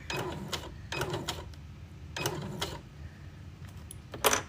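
Domestic sewing machine back stitching fabric held against its guide, heard as short rattling mechanical bursts of needle action, a few quick runs separated by pauses, close and moderately loud.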